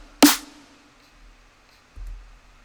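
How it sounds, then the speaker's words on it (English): One sharp snare hit with a short reverb tail ringing out, followed by a soft low thump; otherwise quiet. "For the snare, I have some light reverb just to give it more space."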